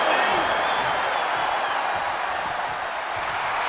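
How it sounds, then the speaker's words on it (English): A wrestling arena crowd roars in a steady, dense wash of cheering during a WWE 2K25 ambulance match between The Fiend and Jacob Fatu, loud and continuous. "And the Fiend is channeling the energy of this crowd."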